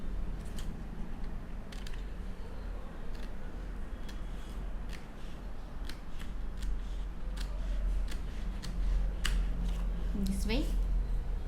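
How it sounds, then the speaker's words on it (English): Scissors cut paper quilling strips at a craft table, giving a series of sharp, fairly faint snips spread over a steady background hum, with a brief voice near the end. "So cut the four strips."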